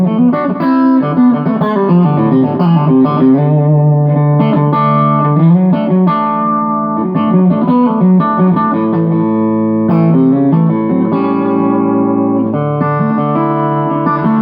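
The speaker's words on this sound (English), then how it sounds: "A little bit of delay from the Sans amp pedal," IYV Amazon electric guitar played through a SansAmp pedal with delay and reverb, a continuous clean melodic passage of chords and single notes, loud and close with trailing echoes, no talking.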